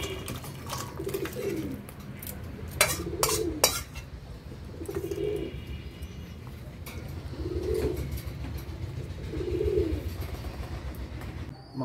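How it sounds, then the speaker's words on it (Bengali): Cooked chicken curry scraped from a pot into a dish, with metallic clinks and clatter of a spoon against cookware, while pigeons coo softly in the background. "মাংসটা এবার ঢেলে নেব।"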